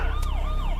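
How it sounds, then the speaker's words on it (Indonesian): A loud wailing police siren sweeps up and down in pitch, close and continuous, with a steady low rumble underneath. "tiba-tiba terdengar suara sirine polisi yang membuat mereka langsung kabur"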